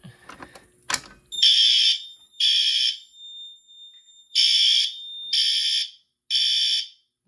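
A Notifier NFS2-640 fire alarm system sounds after a pull station is pulled, a loud, close electronic horn blaring in repeated long bursts with short gaps, following brief clicks and handling noise at the start.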